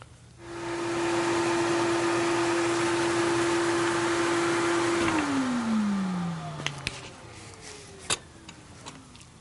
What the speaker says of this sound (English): we use a vacuum cleaner, like a little Hummer that's got a HEPA filter on it